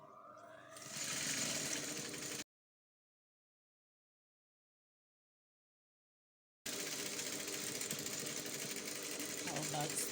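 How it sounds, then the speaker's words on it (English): A sewing machine stitches fabric with a 1/4 inch seam allowance, running in a steady fast whir close by, stopping for a few seconds of silence before starting again. "I'm going to stitch round that side using 1/4 inch sewing allowance."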